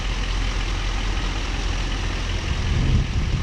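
Steady, deep diesel drone from a 2011 Chevrolet Silverado 3500 HD dually with the 6.6-litre Duramax turbo diesel. The rumble is close and constant, then swells slightly near the end.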